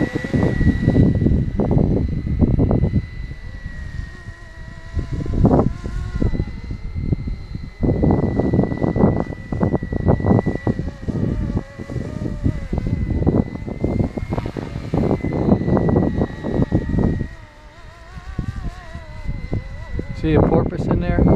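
A Flywing BO105 RC model helicopter flies in heavy wind, its steady rotor whine and buzz running continuously throughout, with strong gusty wind noise buffeting the microphone over it.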